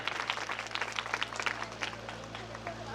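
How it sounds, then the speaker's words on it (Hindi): Audience applause at an award ceremony for a student medal presentation, a burst of moderate clapping from a crowd that tapers off over a few seconds, with a voice faintly underneath. "जोरदार तालियों का स्वागत करेंगे।"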